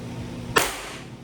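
A single sharp shot from an airsoft gun powered by green gas, a short bright crack standing out over a low steady hum, fairly close and loud.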